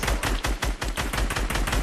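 Rapid, steady bursts of gunfire from a first-person shooter video game, loud and close, with regular punchy shots filling the whole stretch and no talk over them.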